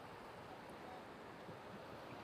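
Ocean waves wash onto an Australian beach as a continuous, broad rushing roar with a steady wash of surf and some wind, heard alone without speech.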